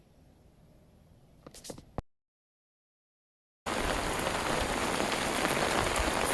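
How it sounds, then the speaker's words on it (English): Steady, dense rain falling on a garden, a loud even hiss of drops on surfaces, briefly cut out and then resuming strongly. "So it is raining, as you can hear and as you can see."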